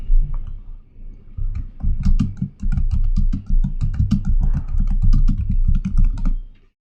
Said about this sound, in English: let's type that at the command prompt